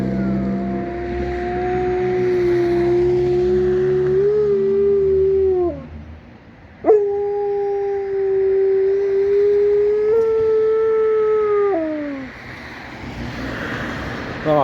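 A loud emergency vehicle siren wails with long rising and falling tones, pausing briefly before starting again, close by over low traffic noise.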